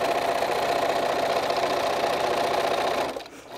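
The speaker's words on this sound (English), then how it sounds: "I'm going to go ahead and just stitch a little bit further" A sewing machine stitching fabric for a small eyeglass case or bookmark: a close, steady fast-running motor whir with rapid needle chatter that slows and stops near the end, no speech.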